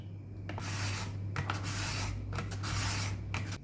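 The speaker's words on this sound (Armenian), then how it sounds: "Քերում եմ գազար։" A carrot is grated by hand, giving steady, close rasping strokes that scrape continuously over a low background hum, with no talking.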